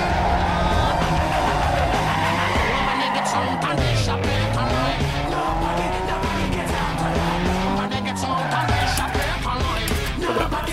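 Race car engines roaring and tires squealing in Need for Speed Underground 2 during a lap race, a loud continuous engine drone with repeated pitch swoops as the car shifts gears and skids through corners.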